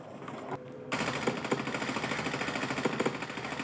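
Rapid machine gun fire in Call of Duty: Warzone starts abruptly after a short quieter lead-in, then runs as a dense, loud stream of shots with a few sharper peaks.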